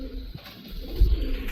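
A Sialkoti pigeon coos softly nearby, a low throaty call swelling briefly in the middle of a quiet setting.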